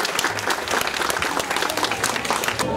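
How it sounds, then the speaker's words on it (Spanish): A festival audience at the 2011 corn festival in Yucuaiquin applauds a local representative with dense, steady clapping that fills the whole stretch at an even, loud level, with no clear talk over it. "Nosotros le damos un fuerte aplauso para la representante del sector de la Cruz."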